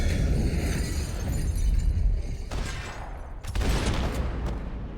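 Sniper-style gunfire in the action video game Max Payne 3: a sustained, loud broadband crash of shots with a brief lull, then another heavy burst, over a dense game-audio bed.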